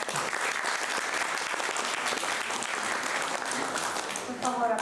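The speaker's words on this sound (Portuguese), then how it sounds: "Demos un fuerte bien aplauso para el experto." Loud applause from a conference audience at an international ethnomathematics plenary, dense continuous clapping throughout, with a voice briefly rising near the end.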